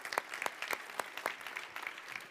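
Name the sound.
audience applause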